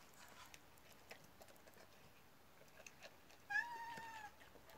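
A hungry cat meows once near the end, a clear, fairly close cry after several seconds of quiet outdoor background with faint scattered taps.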